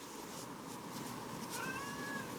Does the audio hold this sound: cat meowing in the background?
yes